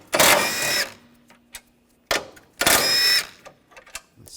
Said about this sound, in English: Using a 13mm socket, take these bolts out.